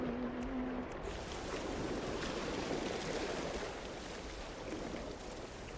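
Ocean waves wash continuously in the No Man's Sky video game, a broad, steady surf roar that eases slightly toward the end, with a brief tonal game sound at the start and no voices.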